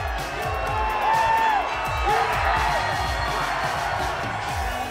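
A large crowd cheers and whoops for angler Mike Iaconelli at a Bassmaster Elite Series bass fishing tournament on the Delaware River, a loud sustained roar of voices with someone talking over it.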